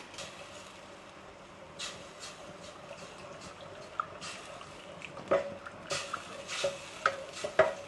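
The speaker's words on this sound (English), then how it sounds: "half cup of coconut milk, and I'm gonna stir it until you got that nice oil" Coconut milk being stirred in a pot for a massaman curry, a soft, quiet scraping swirl with light clinks of the spoon against the pot growing more frequent toward the end.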